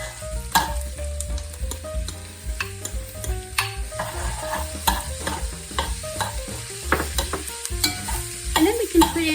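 Sausage sizzles in a pan with sautéed vegetables and caramelizing onions for a Mardi Gras dish, with steady frying crackle and repeated stirring scrapes under background music.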